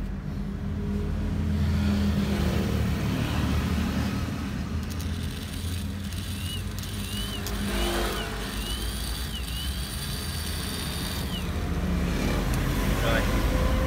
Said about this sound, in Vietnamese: Và phần sau cùng là mình sẽ thử tải nó bằng một cái củ đề xe máy nha.